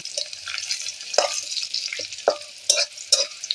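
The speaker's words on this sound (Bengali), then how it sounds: "তো আমার পেঁয়াজগুলি লাল লাল হয়ে গেলে এখন দিয়ে দিলাম গোটা গরম মশলা, তেজপাতা দিয়ে এখন একটু খানিকক্ষণ নেড়ে নেব।" Whole garam masala and bay leaf being stirred into browned fried onions in a pan, giving a steady close sizzle with several sharp scraping strokes of the spoon and no talk.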